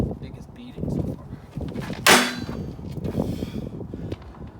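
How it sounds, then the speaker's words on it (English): A heat-treated knife blade, the one quenched in cold boil, strikes rebar with a single sharp metallic clang midway, ringing briefly over low background murmur and handling noise. "we're banging the rebar"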